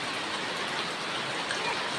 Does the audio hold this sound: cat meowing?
no